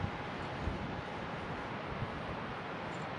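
Wind gusting over a beach beside dunes, a continuous low rumbling roar buffeting the microphone, loud and steady with no pauses.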